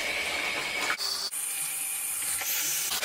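Running tap water rinses a lace frontal wig at a sink, a steady close splashing hiss with a brief break near the one-second mark, no voices.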